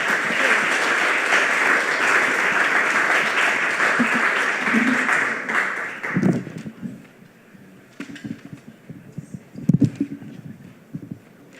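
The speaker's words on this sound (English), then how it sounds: "Round of applause for Emily Crocker." An audience at a spoken word showcase gives a dense, steady round of applause that fades after about six seconds into scattered claps and small room noises.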